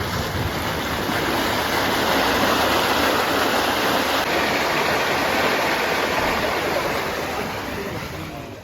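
A steady, loud rush of manure flush water through a dairy barn surges for several seconds without a break, then gradually tapers off at the end.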